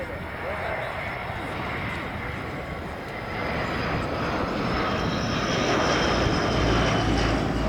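A Breguet Atlantique maritime patrol aircraft flies past at the Royal International Air Tattoo 2025, its engine drone swelling from moderate to loud and near, with someone talking over it.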